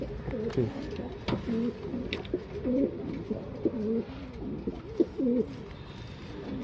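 Tumbler pigeons, including a Nagina tumbler male, coo in low, soft rolling phrases one after another, close by, with faint rustling and brief sharper sounds in the background.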